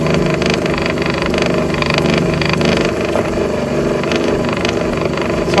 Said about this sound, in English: we'll just keep grinding here at my wheel and try to get this really shiny